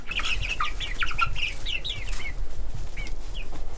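Chickens cluck and chirp close by in a quick, busy run of short calls, pausing briefly before a few more calls near the end.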